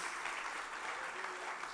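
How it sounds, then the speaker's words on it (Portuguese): A church congregation applauding during a service, a dense, even roar of many hands clapping together, continuous and fairly distant-sounding. "Então dá mais uma salva de palmas ao Senhor Jesus."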